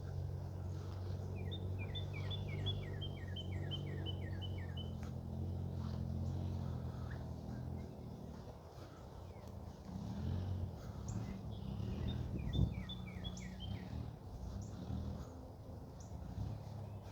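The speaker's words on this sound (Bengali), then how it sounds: "পাখি কলকাকলিতে ভরে আছে" Birds chirping in a quiet park in the morning, two short bursts of quick descending trills some distance off, above a low, steady hum from traffic far away.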